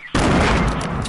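A single loud, sudden blast of shotgun fire in a video game, starting abruptly and ringing out briefly with no talk over it.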